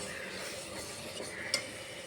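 A spoon stirs a thick nethi poornam filling in a pan, a faint soft scraping with one brief metallic clink near the end.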